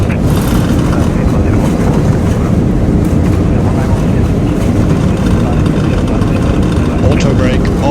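Airbus A319 CFM engines roar in reverse thrust during the landing rollout in a flight simulator, a dense continuous rumble with wind-like noise under cockpit callouts.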